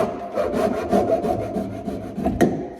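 Hacksaw or reciprocating saw cutting through thin plastic kitchen sink drain pipe, a steady rasping stroke sound close by with a brief sharper scrape near the end, no talking.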